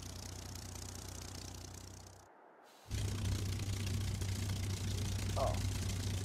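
Aircraft engine in the War Thunder video game throttling up, a steady low drone that cuts out briefly, then returns louder and holds at high power for several seconds.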